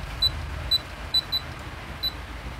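A La Gard 39E safe lock keypad beeps five times in short, evenly pitched chirps, spaced irregularly over a low steady background hum, with no voices.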